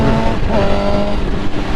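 Motorcycle engine running loud and close as the rider upshifts, a steady engine drone with a brief dip and shift in pitch partway through as the gear changes.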